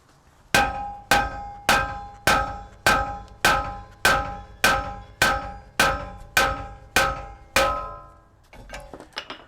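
A brass hammer strikes a BMW E90 brake rotor in about a dozen evenly spaced, loud metallic clangs, each ringing out briefly before the next, followed by a few lighter taps.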